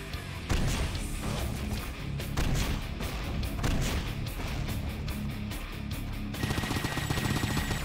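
Dense, continuous gunfire and explosive booms in the first-person shooter Painkiller, loud and close, with rapid overlapping shots that keep going for the whole stretch and no voices over them.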